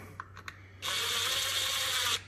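A power tool drives bolts on a Kawasaki Bayou 400 ATV during timing chain work, with a few light clicks and then one sustained, high whirring burst of just over a second, close and fairly quiet, with no talk.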